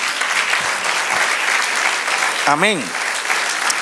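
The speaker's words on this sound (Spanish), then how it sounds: "Dar un aplauso al Señor." A church congregation applauding through a service, dense steady clapping throughout, with a voice calling out briefly near the end.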